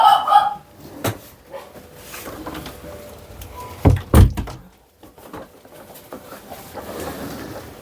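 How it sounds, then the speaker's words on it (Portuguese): An indoor door swung shut, giving a pair of close, sharp thumps near the middle against a quiet room with scattered faint noises. "Deixa eu só fechar a porta aqui."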